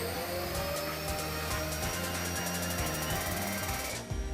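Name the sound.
vacuum cleaner running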